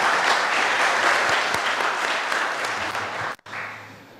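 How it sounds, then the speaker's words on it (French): Loud, sustained applause from a large audience, steady clapping filling the room, dropping off abruptly near the end to quieter room sound. "J'aimerais qu'on applaudisse à nouveau Lionel Zinsou"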